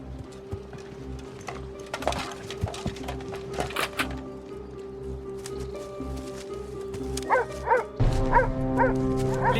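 Search dogs bark in a sharp cluster of several close, loud barks near the end, following a low steady rumble with scattered thuds and rustling.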